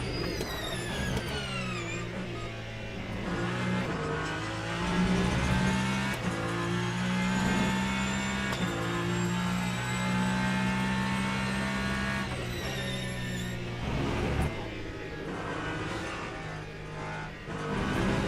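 Race car in the sim racing game Le Mans Ultimate, lapping Interlagos in an online multiclass event: a loud, continuous engine note climbing and dropping through gear shifts, with repeated upshifts and sharp downshifts, no talk.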